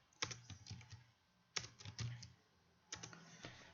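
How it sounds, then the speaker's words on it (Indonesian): Numbers typed on a computer keyboard into an Excel spreadsheet, three close quick flurries of crisp key clicks separated by brief pauses. "Anda ketik beberapa angka sekaligus"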